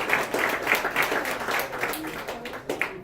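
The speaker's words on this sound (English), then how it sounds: "let's give another big round of applause to the two people." An audience applauds after a blockchain presentation, with moderate, fairly steady clapping and a few louder individual claps standing out, heard without speech.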